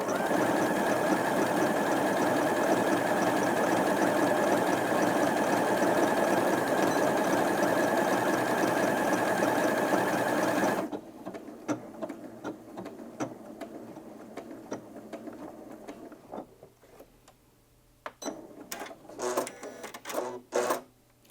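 A Janome Atelier 7 Anniversary Edition sewing machine stitches with a loud, steady whirring drone for about ten seconds, then stops, leaving faint clicks and short mechanical bursts.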